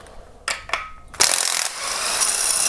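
Ratchet wrench loosening a 17mm timing cover bolt on a Kia Optima: two short clicks, then a loud, steady run of rapid ratcheting clicks up close, with no talking.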